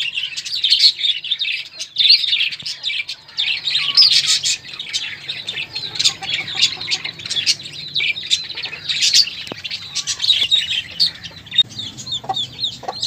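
Chirping and clucking from Australian parrots kept in a wire cage alongside chicks, with dense overlapping bird calls continuing throughout at close range and moderate loudness.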